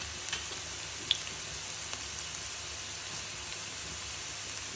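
Chopped onion frying in hot oil, with cumin and mustard seeds just added, gives a steady close broadband sizzle with a few faint pops and no talking.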